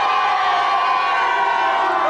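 A game-show studio audience at the Gamesmaster Team Championship Final cheers and shouts, a loud, steady wall of crowd noise that fills the short stretch without a break.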